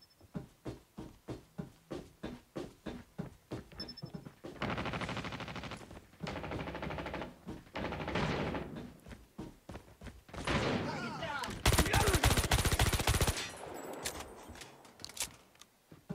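Machine pistol gunfire in Call of Duty Mobile on the Frequency map: rapid bursts and sustained automatic fire interleaved with single shots, closing in a loud dense volley, with a voice talking at times.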